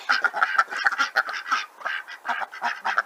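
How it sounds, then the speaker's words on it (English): A small backyard flock of ducks, including two little brown ones, quacking continuously and fairly close, with overlapping calls in a busy, steady chatter and no talking. "Okay, so here's the ducks. Hello, ducks."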